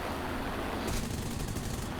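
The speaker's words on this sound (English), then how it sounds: "Damn those Italian machine guns" Machine guns on a C.205 Serie 1 fighter plane in War Thunder fire in a dense, rapid rattle over a constant roaring engine wash. The firing grows louder and harsher about halfway through.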